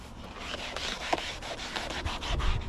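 A magic eraser scrubs silicone and dressing residue in a small van. The rubbing is rough and rasping and repeats in close strokes, with a firmer scuff near the end.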